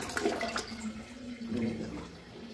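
Water rushes through a two-piece toilet with low flush pressure after its flush button is pressed, a close, splashy flow that swells, eases off and surges again.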